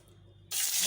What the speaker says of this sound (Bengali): ডিমগুলো আগে ভেজে তুলে নেবো